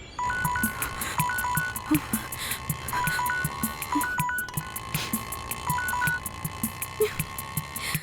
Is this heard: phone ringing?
yes